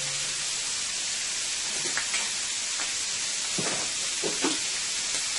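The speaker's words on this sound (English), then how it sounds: "Let's get some butter into the pan there." Butter sizzling in a frying pan on a stovetop while shrimp cook, a steady bright hiss with a few soft pops and crackles, fairly close and on its own without talk.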